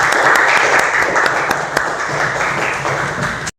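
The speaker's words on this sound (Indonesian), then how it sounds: "Berikan tepuk tangan untuk temannya" A classroom of students claps for a classmate after a good answer in a lesson on Microsoft PowerPoint, brisk, steady applause with a few sharper individual claps, fairly close, ending abruptly.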